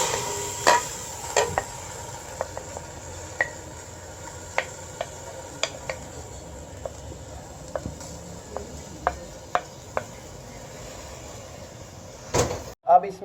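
Cut pieces of raw mango are dropped one by one into a pot of water, making a long string of small sharp taps and plops, close by, spaced unevenly, ending in a louder clatter.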